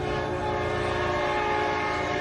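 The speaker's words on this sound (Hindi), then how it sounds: "सामने ट्रेन उसकी ओर आ रही होती है" A train comes along the railway track with a loud, steady rumble and a sustained horn-like tone filling the whole moment, near and unbroken, with no speech.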